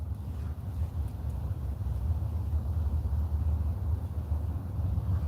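Steady low rumble of warm wind buffeting the microphone outdoors in Alamance County, continuous and fairly strong throughout with no voices.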